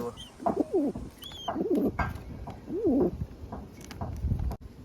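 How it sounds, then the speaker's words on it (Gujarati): Pigeons coo in a run of repeated rolling calls close by, three or four bursts spaced across a few seconds, over low background noise and a few faint chirps. "આમાં કબૂતર આવી ગયું છે."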